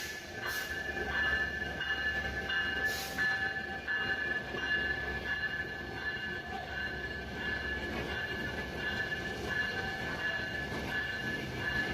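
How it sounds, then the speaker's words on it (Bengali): A Benapole Express train on a Bangladeshi line pulls in at a platform, a steady loud rumble of rolling wagons and wheels with faint squeal, the sound continuous and close throughout. "বেনাপোল এক্সপ্রেস ট্রেনের লোকও কিন্তু চলে আসছে।"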